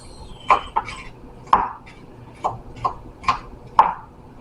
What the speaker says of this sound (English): Done chopping up my garlic.